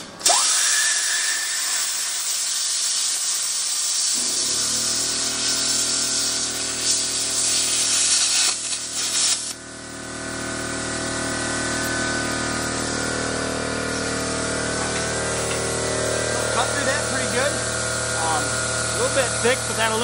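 A Lincoln Tomahawk 45 plasma cutter cuts through thick aluminum plate with a loud, continuous hissing roar and a steady tonal whine, lasting most of the span with a brief dip midway.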